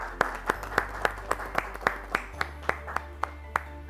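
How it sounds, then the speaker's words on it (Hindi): Applause at a retirement-benefits workshop greeting Sushila ji, heard as about a dozen sharp, evenly spaced claps at a slow steady rhythm, moderately near against a low steady hum. "सुशीला जी का जोरदार तालियों से अभिवादन किया जाए"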